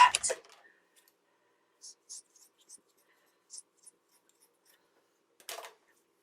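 Scissors cutting hair, a few soft crisp snips spread across a quiet stretch, close by, with a louder rustle at the start and another near the end.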